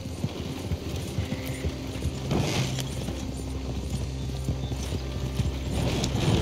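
Steady clip-clop of horse hooves trotting close by in Red Dead Redemption 2, rhythmic and continuous over a dense background rumble.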